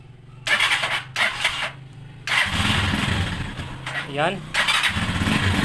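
TMX 155 motorcycle with a replaced throttle cable starting up in short cranking bursts before catching and running with a close, steady engine sound. Someone speaks briefly over it.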